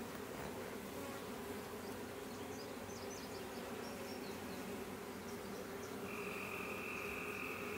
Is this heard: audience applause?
no